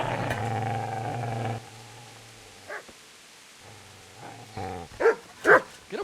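A dog in the medieval game Kingdom Come: Deliverance barks in a short burst, then yips and whimpers a few times, fairly close, over a low droning game background.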